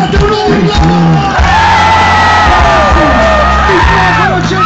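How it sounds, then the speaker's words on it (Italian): Concert crowd shouting and whooping loudly on request, a sustained mass of cheers and yells with overlapping voices rising and falling for several seconds. "Fate un urlo!"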